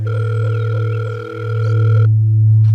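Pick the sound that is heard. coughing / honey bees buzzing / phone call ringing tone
phone call ringing tone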